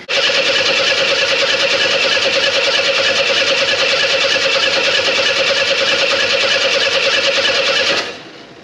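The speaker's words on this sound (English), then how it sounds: "I gotta crank the Jeep over" A Jeep engine is cranked over by its starter in one long, steady, loud whirring grind that stops abruptly near the end, with no talk.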